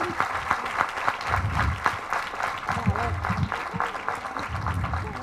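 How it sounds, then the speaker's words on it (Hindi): Sustained applause from a talk-show audience fills the room, dense clapping continuing throughout with a few voices murmuring underneath. "सबसे पहले जोरदार तालियां सबिया जी के लिए"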